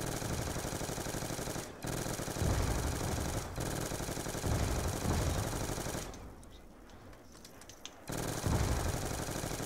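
Rapid machine gun fire in a shooter video game, loud sustained automatic bursts broken by short pauses, with one longer quieter gap before firing resumes; no talking.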